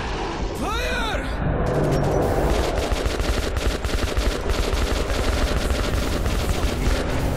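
Dense, continuous gunfire from Metro 2033 Redux, rapid shots layered with booms and crackling bursts that run the whole stretch without a break, with a shouted voice near the start.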